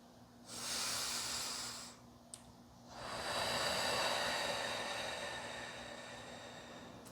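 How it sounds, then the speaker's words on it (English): A person doing belly breathing, exhaling through the mouth: two long, soft, airy breath sounds, close and steady, with a short pause between them and no talk. "tell your child to breathe in and make sure that their belly is moving out. So, and breathe out with the mouth."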